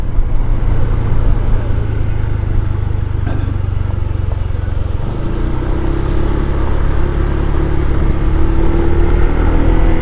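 A Honda ADV 160 scooter-style motorcycle rides along with a steady loud engine drone and heavy wind rumble, pitch shifting about midway as the throttle changes.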